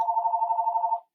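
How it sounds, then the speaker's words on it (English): A telephone bell rings in a single steady trill lasting about a second, fairly loud and close, then cuts off into near silence. "Oh, there's a phone ringing."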